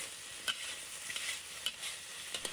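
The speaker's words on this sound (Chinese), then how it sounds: "加入料汁后，一定要先在锅中翻炒一会儿，让料汁与鸡翅充分接触" Chicken wings being stir-fried in a wok after the sauce goes in, a close steady sizzle with a few sharp scrapes of the spatula against the pan at irregular moments, no voices.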